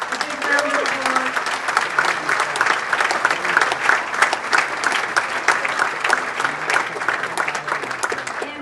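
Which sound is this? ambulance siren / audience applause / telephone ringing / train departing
audience applause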